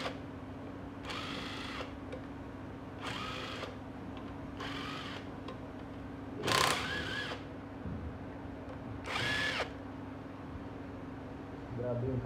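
Power tool such as an impact wrench loosening very tight nuts on a 2011 Yamaha FZS motorcycle engine, heard as five or six separate loud bursts, each about a second long, over a steady background hum.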